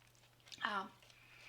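A short, faint bite and crunch of a dry, crumbly cracker from a 30-year-old American military MRE ration, one brief crisp burst that fades into quiet.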